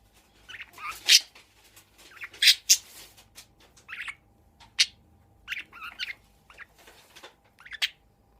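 Pet budgies chirp and squawk in short sharp bursts and scattered calls, close and clear against a quiet indoor background, with some faint speech at times.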